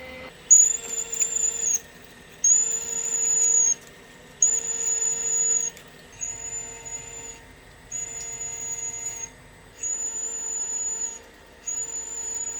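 Metal lathe in first gear running at 300 RPM while drilling, giving a steady high-pitched whine in repeated bursts of about a second and a half with short gaps, close and fairly quiet, no talking.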